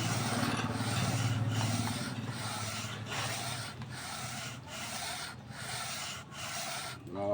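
Steady hand sanding with 100 and 120 grit sandpaper on a Mitsubishi 4D56 engine part, a continuous scratchy rubbing in rhythmic strokes close to the mic, with no talking.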